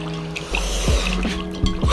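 Running water splashes from a sink tap while acne treatment gel is washed off a face, a close, steady gush broken by a few drips and hand splashes.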